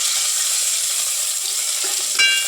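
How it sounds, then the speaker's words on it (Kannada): Mustard seeds and onion fry in hot oil as a tempering for a vegetable side dish, giving a steady, close, hissing sizzle with a sharper crackle near the end. "ಒಗ್ಗರಣೆಗೆ ಎಣ್ಣೆ ಹಾಕಿದೀನಿ"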